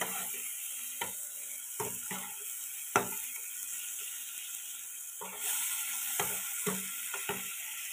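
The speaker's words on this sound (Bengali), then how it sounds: "তো এবার আমরা ভালো করে নেড়ে চেড়ে নেব, ভালো করে এটা কষিয়ে নেব মশলাটা।" Spice masala being stirred and fried in a pan for a paneer dish, a soft continuous sizzle punctuated by spoon scrapes and knocks against the pan at irregular intervals, close and quiet.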